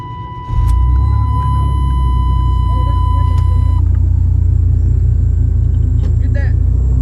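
A V6 four-wheel-drive Chevy S-10 truck engine cranks and catches, then settles into a loud, steady rumbling idle up close, with a high whine alongside and people talking over it.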